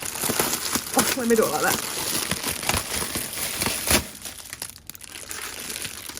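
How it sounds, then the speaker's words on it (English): Plastic stationery packaging crinkles and crackles close up in rapid, irregular bursts while unboxing, with someone talking briefly over the rustling before it drops away. "So sorry for the crinkling."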